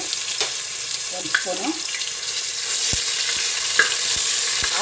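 Ginger garlic paste sizzles steadily in a hot pan while a spoon stirs it, with sharp scraping clicks against the pan, close and loud with no talk, while making tomato bath.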